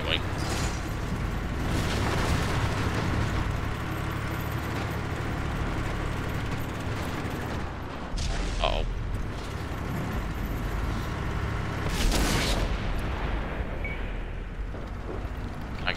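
Armored combat in World of Tanks on Xbox One, with loud sustained engine rumble and bursts of cannon fire and explosions near the start, around 8 seconds and at 12 seconds, while a player talks over the battle.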